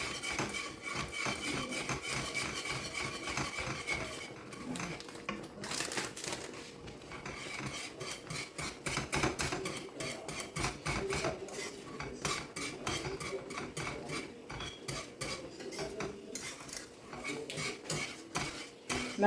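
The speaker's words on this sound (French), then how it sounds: "il faut tourner rapidement pour éviter les boules" Okra (gombo) sauce is stirred fast in a pot, a dense stream of quick rhythmic scraping and clinking of a utensil against the metal, loud and close, continuing without pause.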